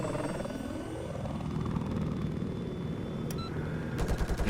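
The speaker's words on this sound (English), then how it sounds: "there is the helicopter" Military helicopter in the video game Battlefield on the Golmud Railway map, a steady rotor drone throughout with scattered gunfire bursts and a louder rapid chopping toward the end.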